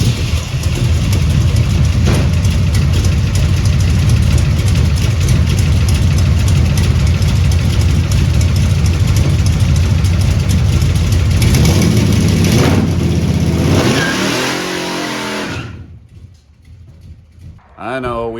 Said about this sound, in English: that don't mean we can't do a garage burnout.